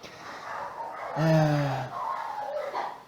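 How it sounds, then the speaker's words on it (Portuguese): Dogs barking and whimpering in the background, one fairly close yelp-like cry standing out amid fainter yips, with no talk over it. "tá muito cachorro latindo"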